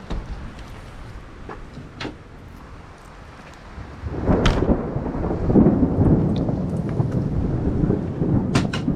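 Outdoor thunderstorm along a Florida loop road: distant rolling thunder builds into a heavier, louder rumble midway, with rain and wind noise throughout and scattered sharp crackles and knocks.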